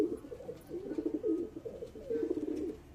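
Pigeons of good colour quality, a male and female, coo in a low, rolling warble that repeats in soft bursts across the moment, fairly close and steady with no one talking.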